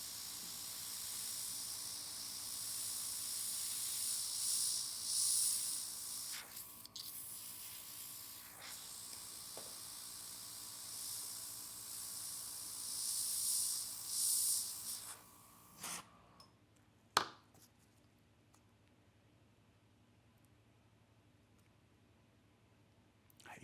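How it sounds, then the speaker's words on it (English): Steady airbrush hiss sprays paint onto a nail-art stencil for about fifteen seconds with brief pauses, then stops, leaving a quiet room with a couple of sharp clicks. "Again, I'm spraying on the stencil."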